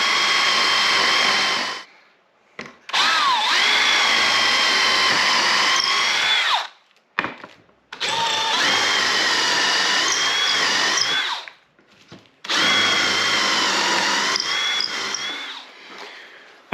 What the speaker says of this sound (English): now that we got all of our holes drilled